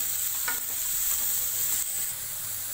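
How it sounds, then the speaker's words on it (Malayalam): Finely chopped onions saute in hot oil in a pan with a bright, steady sizzle and a few soft stirring scrapes, close and without talk. "അത് നമുക്കിതിലേക്ക് ആഡ് ചെയ്ത് കൊടുത്ത് നല്ലതുപോലെ നമുക്കൊന്ന് വഴറ്റിയെടുക്കാം."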